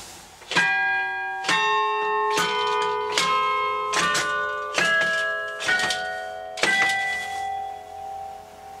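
The Bollée carillon of Châtellerault rings out as a slow sequence of about seven struck bell notes, each clear and resonant with a long ringing decay overlapping the next.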